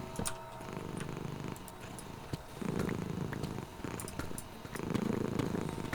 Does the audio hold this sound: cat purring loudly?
yes